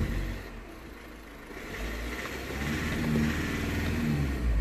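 An Audi A3 1.6 TDI diesel with a misfire fault, stuck in limp mode, starts up and settles into a steady, moderately loud running sound with a slight rise in engine note partway through.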